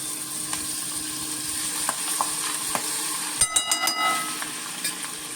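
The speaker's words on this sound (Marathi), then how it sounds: "हे एक चमचा लोणचं मी फोडणीत घालते" A spoonful of chili pickle dropped into hot oil for tempering, with a steady crackling sizzle that flares into a burst of louder spattering pops partway through.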